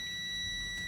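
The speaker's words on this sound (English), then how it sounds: "I should get an alarm and a warning light" A truck's low air pressure warning alarm sounds as a steady, continuous electronic beep tone while air is fanned off the brake system during a pre-trip inspection.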